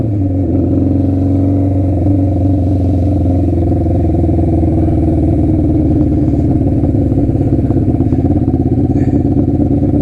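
A motorcycle rides in traffic, its engine a loud, steady, close drone that holds without pause throughout.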